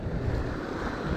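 Sea surf near Ponza, heard from a sailing boat: a continuous broadband wash of waves mixed with gusty wind buffeting the microphone, fairly loud and close.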